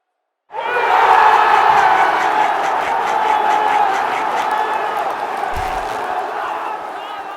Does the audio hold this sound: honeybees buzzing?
no